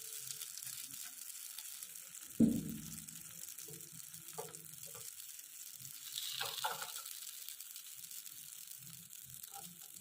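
A sudden sizzle as pancake batter hits a hot pan, then a quieter ongoing crackle with faint clatter and a few brief hisses.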